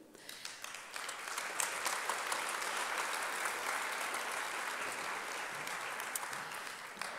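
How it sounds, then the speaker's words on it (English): Audience applause at a doctoral graduation ceremony of Institut Polytechnique de Paris, a sustained even clapping from a large seated crowd that builds quickly and holds steady for several seconds. "Please give a warm applause to Dr. Adriana Tapu."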